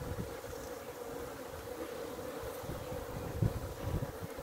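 Honeybees in an unsettled hive colony with sparse combs, a steady low buzzing hum with a few brief louder bumps near the end, no talk.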